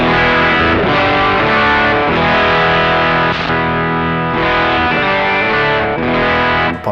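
An electric guitar played through a Hotone British Invasion amp, recorded direct into an audio interface, sounds a dense run of driven chords that ring and overlap continuously, loud and close with no voices.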